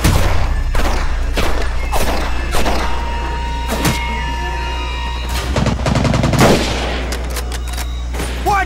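Gunfire from the World War II shooter Medal of Honor: Pacific Assault: loud, close gunshots and bursts of rapid fire crack repeatedly over a low rumble, with a dense volley near the end.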